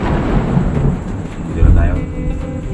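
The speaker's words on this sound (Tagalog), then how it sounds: "Oo, kumakulog na." Thunder rumbles low and heavy during a rainy evening drive in the Philippines, a deep rolling swell that peaks midway, with steady rain-like noise underneath.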